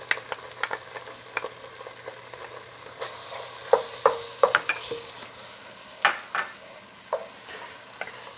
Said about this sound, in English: Now we should add our tomato paste and about few minutes to be sauteed together also.